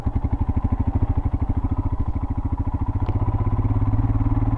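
A Royal Enfield Himalayan motorcycle on an off-road trail, its single-cylinder engine thumping in a steady, rapid pulse close to the rider, growing slightly louder toward the end.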